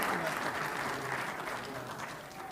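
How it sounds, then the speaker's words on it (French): A church congregation applauding the Lord in a French-language service, steady sustained clapping from a crowd that stays fairly even throughout. "Est-ce que vous voulez acclamer le Seigneur?"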